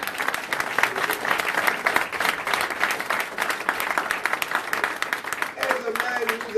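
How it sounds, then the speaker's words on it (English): Audience applause at a mosque gathering, a dense sustained clapping crowd filling the whole stretch, loud and steady with a few voices mixed in. "Brother Dean, give him a big round of applause."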